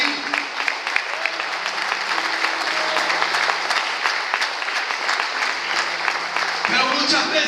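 A church congregation at an evangelical event applauding, dense sustained clapping from a crowd with a low musical tone underneath, loud and continuous to the end.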